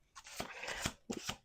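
Tarot cards riffled and snapped together in two quick bursts, a crisp flurry of papery slaps followed by a shorter second round, close by.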